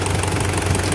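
A repaired Toyota 1KZ-TE diesel engine idles steadily close by, a low, even rumble with a regular throbbing pulse and no audible knocking.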